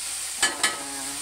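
Two quick scraping stirs of beef caldereta ingredients in a hot pan, short bright swishes over a low steady sizzle, close and alone.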